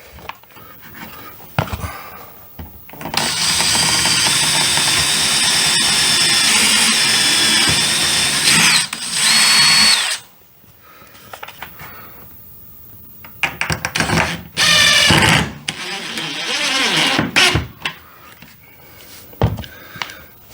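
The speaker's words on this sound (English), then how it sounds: "With that screw in, I'm going to do the exact same thing down here." Power drill driving screws into baseboard register bracing, running in a long loud whir and then in several shorter bursts with pauses between them.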